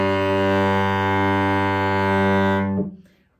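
A cello sustains a single loud, full bowed note under heavy bow pressure, rich in harmonics, holding steady for over two seconds before the bow lifts and the tone quickly dies away.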